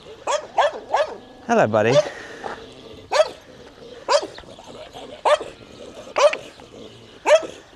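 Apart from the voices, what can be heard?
stray dog barking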